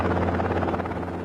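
Steady helicopter rotor and engine drone during a South African off-road motorbike race, loud and continuous without pause, with no voices over it.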